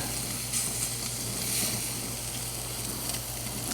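Salmon kabobs sizzle steadily on a very hot grill, a constant close crackling hiss with no voices over it.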